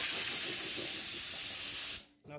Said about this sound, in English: It's actually really quiet for a belt-driven compressor.